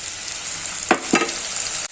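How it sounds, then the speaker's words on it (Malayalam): Spice paste sizzles in hot oil for a curry, with a constant bright hiss close by and two brief stirring scrapes. "ഇത് നല്ലതുപോലെ എണ്ണയിൽ ഈ അരപ്പ് കിടന്നൊന്ന് നല്ലതുപോലെ തിളക്കണം"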